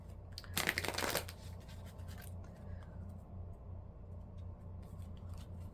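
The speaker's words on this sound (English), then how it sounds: "I keep trying not to blow everything away on my altar with my shuffling." Tarot cards being shuffled at an altar give a short burst of crisp riffling and scratching near the start, then fade to quiet, faint rustling.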